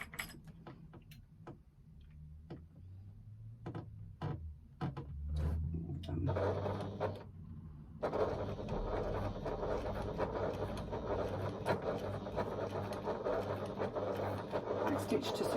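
A sewing machine stitches down the side of faux leather rectangles, starting with a few separate clicks and short bursts, then running as a steady, fairly loud mechanical whir close by.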